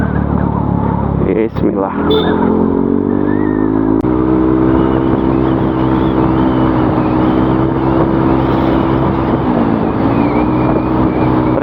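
Scooter ridden with a racing exhaust, a loud, close engine drone that climbs in pitch as it pulls away after a brief pause, with a short spoken word at the start.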